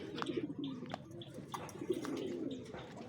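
A dark racing pigeon with an injured, limping leg coos softly in a series of short, repeated low calls, fairly close and quiet, during a training flight in San Jose.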